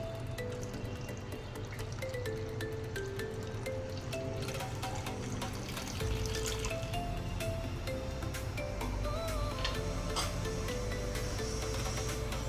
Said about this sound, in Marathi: आणि आता हे जे आपण ब्लेंड केलेलं सरबत आहे ते त्याच्यामध्ये ओतते आहे।